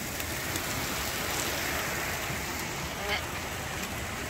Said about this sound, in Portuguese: chuvarada